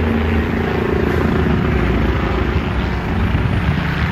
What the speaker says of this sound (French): juste en dessous de l'hélicoptère de la LAPD qui est en train de passer